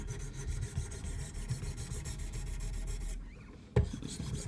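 A Kershaw Fraxion knife blade drawn across 1000 grit stones on a Wicked Edge sharpener, making a close rhythmic rasping stroke that repeats steadily, with a short pause and a sharp knock near the end.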